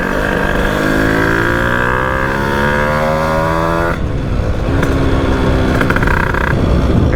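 A motorcycle with its jets being changed runs loud and close, its engine note sweeping upward as it revs, then dropping to a rough idle broken by sharp popping backfires.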